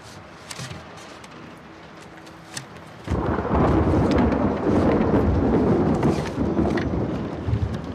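Rain and thunder in the video game The Last of Us Part 2: quiet ambience with faint drops gives way to a sudden loud, close rumbling roll of thunder over heavy, steady rain that lasts to the end.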